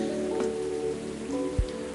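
Steady rain falls in the video game Coffee Talk 2, a continuous soft patter with a low muffled thump near the end, alone without any voices.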